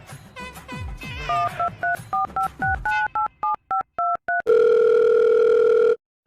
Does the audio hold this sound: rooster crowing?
no